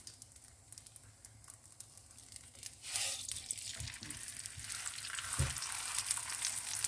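A paratha frying in desi ghee on a pan, a soft crackle that swells into a steady, brighter sizzle with occasional pops and stirring scrapes, close and without speech.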